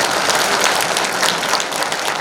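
Dense, steady applause from a seated audience at a book launch, a brief burst of many hands clapping together at close range with no talk over it.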